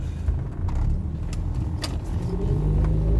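Interior of a classic 1980s car without power steering being driven: a low, steady engine and road rumble with loose keys jangling and small knocks throughout, no one speaking.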